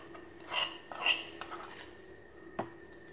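Tempering (vaghar) spooned over soft suji dhokla: quiet clinks and scrapes of a metal spoon against a pan, a few separate taps spread over a few seconds with faint whispering under them.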